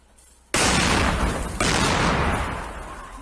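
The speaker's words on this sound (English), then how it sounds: "a thick burst of automatic gunfire forces them back" Automatic gunfire during fighting between rebel fighters and the Myanmar army, two thick loud bursts that crack in suddenly and roll on with echoing reverberation, the second fading slowly.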